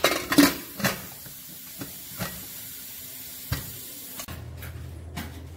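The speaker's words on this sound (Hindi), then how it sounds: "पानी डालने के बाद मैं कर दूंगी कुकर को बंद" Several sharp metallic clanks and knocks of a pressure cooker lid being fitted and shut over dal and spinach, spaced apart, followed by a low steady hum.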